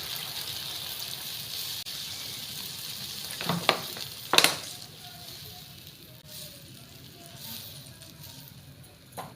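Water poured into a pan of frying spice masala for a vegetarian curry, giving a burst of loud hissing and bubbling after a couple of sharp clinks, then settling into a softer simmering sizzle.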